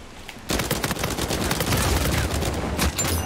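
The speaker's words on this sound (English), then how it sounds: "Who's shooting me?" Rapid automatic gunfire rattles in a multiplayer match of the video game Uncharted 4, a dense burst of shots starting abruptly and continuing loudly throughout.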